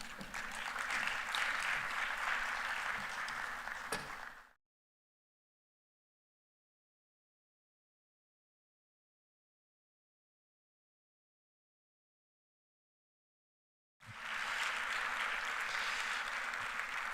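Audience at a renewable energy conference and expo applauds in a dense, steady wash of clapping, cut off by a long silent gap before the applause resumes.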